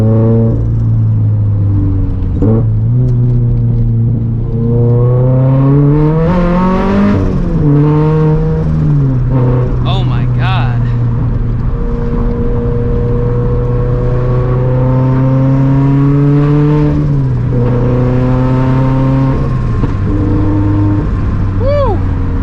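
A turbocharged Toyota FRS running on E85 fuel revs and accelerates hard, its pitch climbing and falling through gear changes, loud and close throughout.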